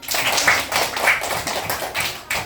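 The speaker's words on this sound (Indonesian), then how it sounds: "Oke, tepuk tangan dulu anak." Schoolchildren in an Indonesian classroom clap their hands together in a few loud, rhythmic bursts of synchronized claps, close and fairly sharp, with no talk over them.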